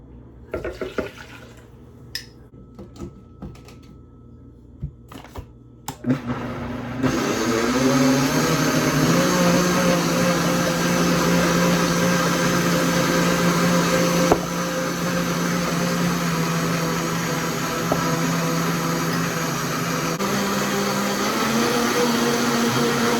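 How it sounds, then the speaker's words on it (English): A blender mixing matcha starts with a few short pulses, then runs continuously and loudly, a steady whirring grind that holds for a long stretch. "And I'm going to add this to the blender."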